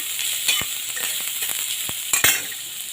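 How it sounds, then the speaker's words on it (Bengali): Crushed garlic frying in oil in a kadai for dal makes a steady, close hiss throughout, with scattered light crackles and a couple of stronger spits near the end. "রসুনটাকে একটু ভাজা ভাজা করে নেবো লাল লাল"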